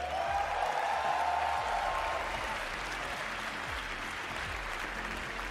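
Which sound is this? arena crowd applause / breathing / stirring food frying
arena crowd applause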